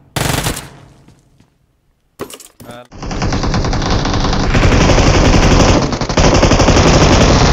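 Automatic gunfire in the mobile video game PUBG Mobile, a short burst followed by a pause, then a sharp shot or two and a long, loud, sustained stream of rapid machine-gun fire with faint talk under it.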